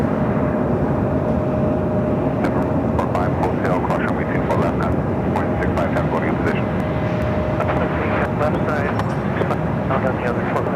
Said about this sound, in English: Delta 757 going to be landing up, heading to Mexico City